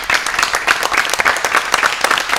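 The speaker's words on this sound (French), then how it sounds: "On s'applaudit tous." Students and guests in a French television studio applaud finalists, a dense, loud wash of clapping from a packed crowd that fills the whole stretch without pause.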